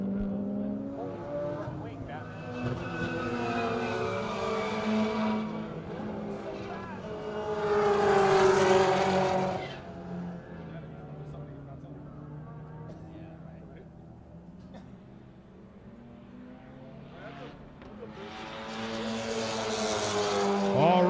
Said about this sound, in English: That's Carla Pistone getting onto the front straight in the Project Import S2000.